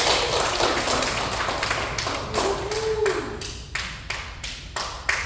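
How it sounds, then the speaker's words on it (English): Attendees of a leadership training session give themselves a round of applause, a thick continuous wash of clapping that thins toward the end into scattered separate claps. "give yourself a round of applause"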